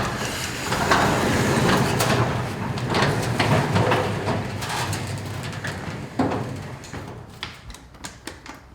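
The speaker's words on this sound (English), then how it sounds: "Now we'll raise the door." Garage door rising under a Sommer 550 Synoris opener, a steady mechanical rumble with rattling and ticking from the panels that fades toward the end into a few separate clicks and knocks.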